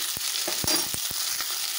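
Pointed gourd (potol) fries in a pan with five-spice, salt and green chili: a constant close sizzle broken by several sharp scraping stirs, with no voices.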